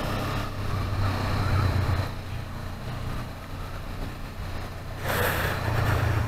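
500cc sports motorbike engine while riding on the road, a steady droning hum with wind rush that rises and falls, and a brief louder surge near the end.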